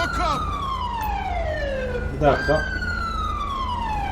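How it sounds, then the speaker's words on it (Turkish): A police car siren in the video game GTA 5 wails in long descending sweeps, then restarts with a sharp rising whoop before falling again, steady and prominent, with someone speaking briefly over it. "Bir sireni bir kapatayım bir."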